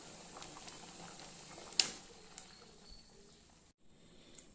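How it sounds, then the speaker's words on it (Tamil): A pot of sambar bubbles at a steady, quiet boil, with a soft continuous simmer, light popping, and one sharper tick partway through. "இல்லை சாம்பார் நல்லா கொதிச்சிருச்சுங்க"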